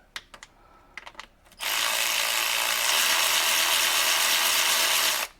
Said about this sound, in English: we're gonna go ahead and pull all the bolts out now